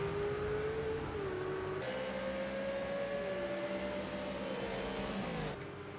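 Several McLaren race cars lapping the Dubai circuit in Project CARS 2 on PS4: a loud, continuous engine drone whose pitch climbs and drops through gear shifts, with other engines layered close behind, no talking.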